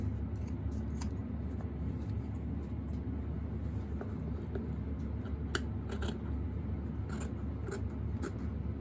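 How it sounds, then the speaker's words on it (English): Scissors snip through a coonskin (raccoon hide) being trimmed for a quiver, giving scattered crisp cuts at a moderate, uneven pace over a steady low background hum. "Trim this up a little bit because I cut it just a little bit too big."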